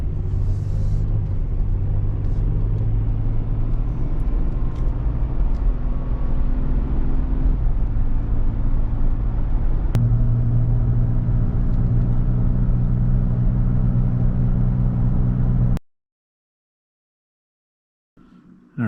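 A GMC Envoy drives along a road after a front wheel bearing replacement, a steady close cabin rumble of engine and tire noise that holds evenly before cutting out near the end.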